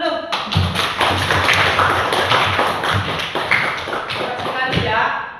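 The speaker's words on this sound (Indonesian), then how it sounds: "Tepuk tangan dulu." Children clap their hands together in a classroom: a quick run of rhythmic, patterned claps and taps lasting several seconds, with voices mixed in.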